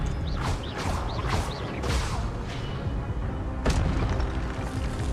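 Spell casting in Hogwarts Legacy, the Expelliarmus disarming spell: several whooshing bursts with sweeping tones, a dense rumbling clatter beneath, and a sharp crack near the end.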